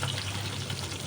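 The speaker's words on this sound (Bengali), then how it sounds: "আলুটা ভাজি হতে হতে টমেটোটাও দিয়ে দেবেন" Potatoes and tomatoes frying together in a pan give a brief, even sizzle that holds steady throughout, close and fairly loud.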